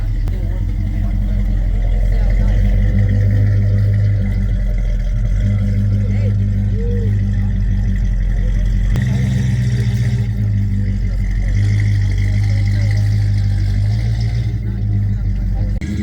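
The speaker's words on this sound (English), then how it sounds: "So I got distracted by the fastback leaving" A fastback car driving away from a car show at a harvest festival in Swedesboro, NJ, its engine rumbling steadily and fairly close throughout amid outdoor crowd noise.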